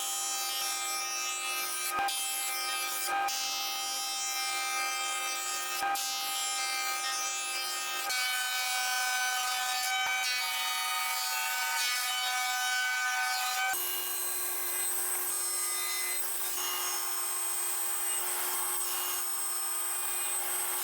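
Thick wooden boards are trimmed to size for a homemade Moxon vise, with a steady whining tool tone that shifts pitch in sections and a few sharp clicks, fairly quiet and uninterrupted by speech.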